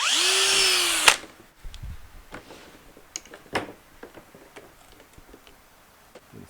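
A power drill bores a hole into the corner of a PVC fitting, a loud steady whine for about a second, then stops, followed by faint clicks and handling taps.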